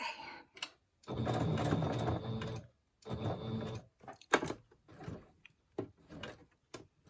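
A sewing machine runs in bursts of stitching, a long steady run followed by shorter stop-start passes, close and moderately loud, with brief pauses between.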